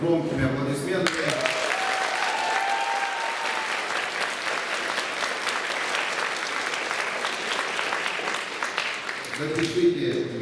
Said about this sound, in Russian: предлагаю вспомнить Валентину Юрьевну Рыбкину громкими аплодисментами